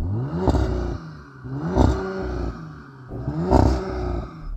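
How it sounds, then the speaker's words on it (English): An Audi RS5 engine revving hard three times in a row, each rise held and bouncing against a soft limiter before dropping back, loud and close with a deep roaring burble between pulls. "Okay, let's hear the Audi."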